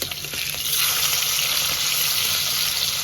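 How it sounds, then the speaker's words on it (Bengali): Snakehead (shol) fish frying in hot oil in a pan, a loud continuous sizzle that swells after the first second and stays steady and close, with no talking. "অল্প মাছ ভেজে নেবো প্রথমে তিনটে তারপরে দুটো মাছ ভেজে নেবো"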